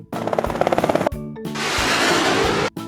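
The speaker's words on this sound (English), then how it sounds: "This is helicopter." A helicopter in a children's vocabulary lesson on air transport: a quick, loud, rhythmic rotor chop gives way to a steady roaring whine, then cuts off abruptly.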